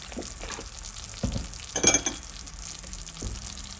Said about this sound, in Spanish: Voy a agregar un poco de soya, como 3 cucharadas.